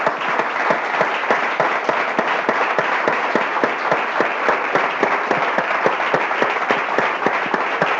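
A church congregation applauds the Lord, loud, sustained clapping with some distinct sharp claps standing out in the dense crowd sound.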